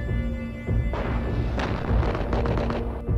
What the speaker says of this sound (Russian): Они еще один шкаф взрывают.